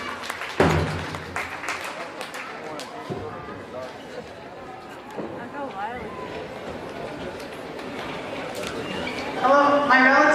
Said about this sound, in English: let's give it a round of applause, ladies and gentlemen